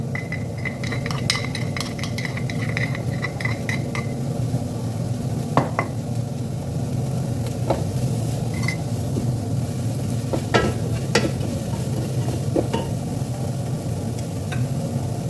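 Minced garlic and ginger sauté in a pan with onions for an Arabic-style tuna lugaw, giving a steady low sizzle under scattered clinks and stirring scrapes of a utensil against the pan.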